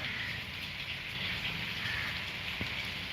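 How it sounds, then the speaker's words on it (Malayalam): Steady rain falls continuously in a dense, even hiss that spreads across the whole stretch, with no voices and no lulls. "രാവിലെ തുടങ്ങിയ മഴയുണ്ട് ഇവിടെ"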